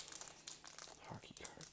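A baseball card pack wrapper crinkles and tears close up, soft and quiet, in irregular bursts of crackling plastic with a hushed voice speaking softly over it.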